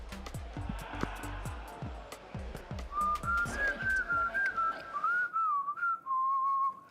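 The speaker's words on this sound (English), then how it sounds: "My teammates are like getting annoyed of it because I sit and whistle, but I think it's cool" A person whistles a short, wavering melody of quick rising and falling notes, clear and close, following a stretch of faint background clatter.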